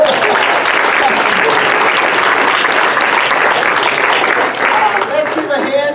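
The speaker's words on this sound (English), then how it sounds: "round of applause." A conference audience gives a full, loud round of applause, dense and continuous throughout, with a few voices rising over the clapping near the end.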